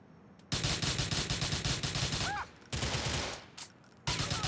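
Shotgun gunfire in the video game GTA 4: loud repeated blasts in rapid bursts with short pauses between volleys, close and harsh, no talk.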